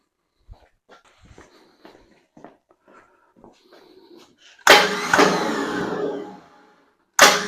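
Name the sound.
starter motor not engaging flex plate, Ford 289 in '73 Comet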